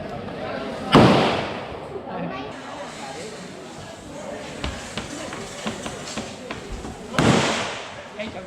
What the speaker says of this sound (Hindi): ये लोग रियल बुलेट्स चला रहे हैं।